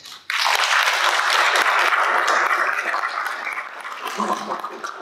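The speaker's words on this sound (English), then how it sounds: "I think you earned a great applause" Applause breaks out abruptly after a workshop talk on EU funding for alumni activities, a full burst of clapping from a room audience that stays strong and then slowly thins toward the end.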